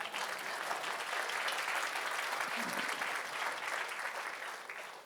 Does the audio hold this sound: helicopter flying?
no